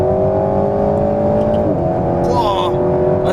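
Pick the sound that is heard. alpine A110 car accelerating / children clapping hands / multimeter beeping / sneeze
alpine A110 car accelerating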